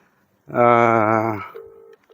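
A telephone tone sounds loud and close at night in Qatar: a sustained buzzing tone for about a second, followed by a short, quieter steady tone, with no speech.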